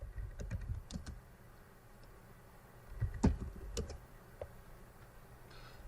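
A command is typed on a computer keyboard: quiet, close clusters of keystrokes arrive in short irregular bursts with brief pauses between them.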